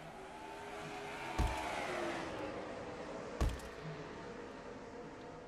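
Race cars roar at the green flag at North Wilkesboro, a 5/8 mile short track in the Brushy Mountains, with an all-Chevy front row; a steady dense engine drone fills the clip, broken by two sharp loud bursts.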